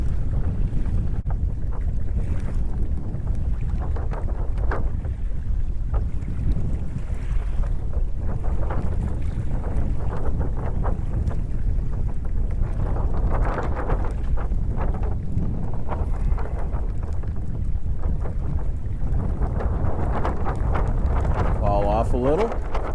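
Strong wind buffets the microphone while sailing a Hobie Outback on choppy water on a beam reach, a loud continuous rushing roar with water slapping against the hull throughout.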